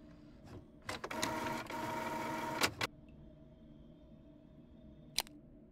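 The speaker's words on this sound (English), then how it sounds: "Oh, that might be a printer." An office printer in a video game whirs through a loud mechanical run of about two seconds, framed by sharp clunks, then falls back to a quiet hum with one last click.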